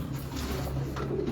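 Close, throaty cooing from a pure Shah Parwaz pigeon, a short continuous rolling murmur over a faint background hum.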